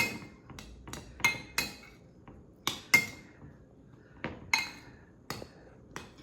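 Bread cubes for Caesar salad croutons are tossed with dressing in a bowl, giving sharp, irregular clinks and taps of a utensil against the bowl with quiet gaps between them.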